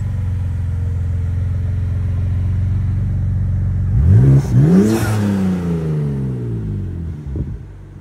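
A BMW M3 LCI at a cars and coffee meet idles with a deep steady rumble, then revs sharply several times in quick rising and falling blips before settling, loud and close.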